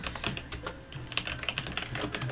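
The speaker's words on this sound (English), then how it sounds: "I'm terrible at typing today" Rapid, close clatter of keys being tapped on a computer keyboard while code is typed, irregular bursts of clicks with no voices.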